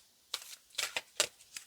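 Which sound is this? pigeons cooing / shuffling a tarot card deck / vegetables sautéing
shuffling a tarot card deck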